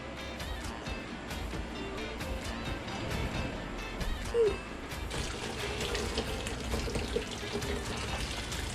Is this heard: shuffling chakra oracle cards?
no